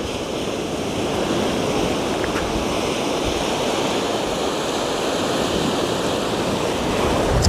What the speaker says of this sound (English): Lovely sound of the waves.